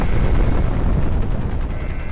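A missile explosion in the video game Crysis: a sustained, loud, rumbling blast with dense low-end roar and crackling debris that stays heavy for the full two seconds, with no voices.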